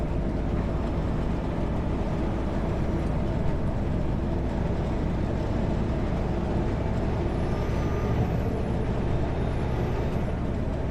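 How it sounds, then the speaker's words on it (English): A truck's engine brakes slow it on a highway near Christina Lake and Grand Forks, British Columbia, producing a loud, steady, unbroken roar heard from inside the cab. "Got to get hard on the engine brakes."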